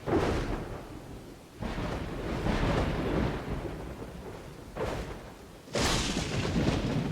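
A heavy thunder rumble with rain during a storm striking a settlement in the video game Dawn of Man, a long rolling boom followed by a fresh crack, loud and with no talk.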